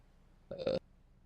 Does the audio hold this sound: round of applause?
no